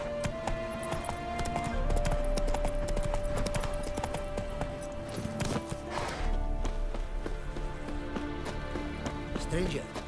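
Galloping horse ridden in The Witcher 3 game, hoofbeats running steadily and loudly through the whole stretch over a dense bed of game music and ambience, with a voice speaking at times.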